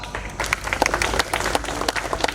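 Audience applauding at the closing show of a 20-day workshop staging of Rashmirathi; dense, steady clapping from a sizable crowd fills the whole stretch, with no talk over it.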